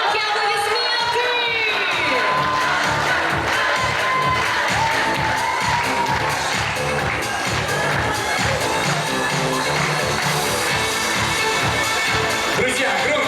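A dense, loud crowd cheers, whoops and shouts without a break at the Miss and Mister BGU 2019 university pageant award ceremony, with applause blending into the steady roar from start to finish.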